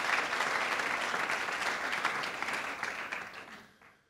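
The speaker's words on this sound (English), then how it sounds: "You can give applause to these people." Applause from the audience at the opening of a European organic congress, a dense, steady clapping that fills the room and then thins out and fades over the last second.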